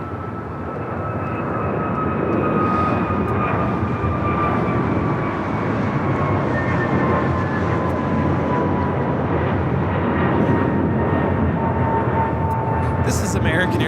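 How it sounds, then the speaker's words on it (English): American Airlines Airbus A321neo jet taking off at LAX, a loud sustained engine roar with a slowly falling whine that holds steady throughout as the aircraft climbs away. "This is American Airlines 2329 taking off to Washington Reagan National on the A321neo"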